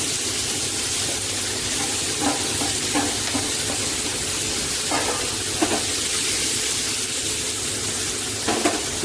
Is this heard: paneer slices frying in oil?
yes